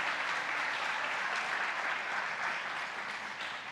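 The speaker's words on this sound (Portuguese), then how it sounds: "Dá um aplauso ao Senhor aí" A church congregation applauds steadily, a dense, even wash of clapping from a large crowd that holds at the same level throughout without a break.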